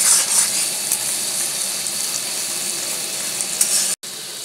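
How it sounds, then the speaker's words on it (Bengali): Onion browns in hot oil in a pan, giving a steady, loud, close sizzle while it is stirred now and then, and a brief break comes near the end. "এবার পেঁয়াজটাকে ভালো করে ব্রাউন করে নেবো বন্ধুরা।"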